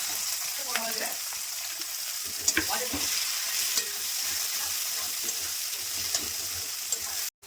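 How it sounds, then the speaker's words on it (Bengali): Onions hit hot oil in a wok already seasoned with whole garam masala and bay leaves, giving a steady, close, loud sizzle with occasional stirring scrapes throughout, no voices. "কড়াইতে ফোড়ন দিয়ে দিলাম গোটা গরম মশলা আর দুটো তেজপাতা পেঁয়াজগুলো দিয়ে দিচ্ছি"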